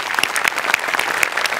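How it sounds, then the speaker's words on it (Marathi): A Marathi comedy show audience bursts into strong applause after a stage performance, dense close clapping with sharp individual claps standing out, loud and continuous with no talking. "मस्त झाला परफॉर्मन्स, जोरदार टाळ्या"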